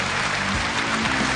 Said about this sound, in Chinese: 我们掌声有请姚导登台